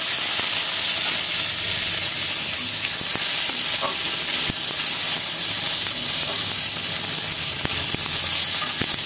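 Chopped tomato goes into hot oil already tempered with radhuni seeds while making dal, setting off a loud, steady sizzle and hiss that runs unbroken throughout.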